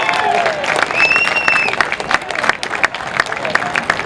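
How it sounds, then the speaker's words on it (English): A crowd applauds high school seniors at a Quincy baseball game, with sustained clapping and scattered cheers from an outdoor audience, plus a brief whistle-like tone early on, loud and continuous for several seconds. "Come on, big round of applause for you kids."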